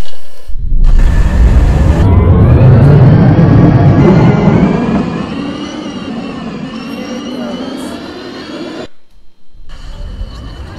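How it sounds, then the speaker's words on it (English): A Roblox bus-game tram pulls away, a loud close rumbling whir that rises in pitch and then fades as it moves off before cutting to near silence. "There goes our tram"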